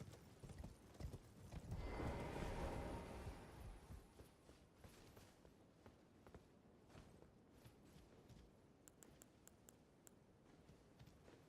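Horse hooves clip-clop in Elden Ring, a fast run of hoofbeats swelling loud for a few seconds, then slowing to softer, scattered steps with faint clicking toward the end.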